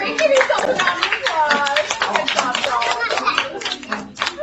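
An audience at a children's theater show gives a brisk round of clapping, dense and close, with excited voices calling out over the hands throughout.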